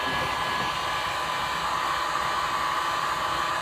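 A heat blower roars in a steady, loud, broadband rush close by as it heats a car fuse box board from a Chevy Malibu.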